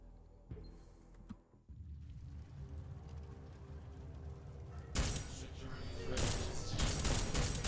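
Gunfire in the video game Deus Ex: Mankind Divided includes a couple of isolated shots early, then a sustained burst of rapid automatic fire over the back half, set over a low game soundscape.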